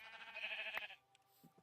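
A sheep in Minecraft gives a short, quiet bleat, followed by faint scattered game sounds.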